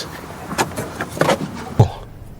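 Someone climbs into a truck: a few muffled thumps and soft rustles spread over a couple of seconds, moderately close, with no talking.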